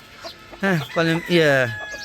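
Chickens and ducks kept on a rooftop squawk and cluck loudly for food, with three drawn-out, rising squawks close by over quieter background clucking.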